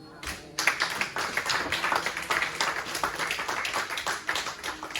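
A church congregation claps and applauds together, a dense, steady wash of many hands beginning abruptly and continuing loud and sustained throughout.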